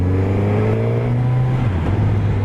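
A Suzuki GSX-S1000 motorcycle with the standard Suzuki exhaust and a detuned 2008 GSX-R K8 engine runs close and loud, a steady deep drone that shifts pitch slightly near the end.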